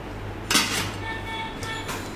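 A Kiam 26 cm aluminium kadai lid handled close by, giving two bright metallic clanks with a short ringing tail between them, while a voice speaks quietly underneath.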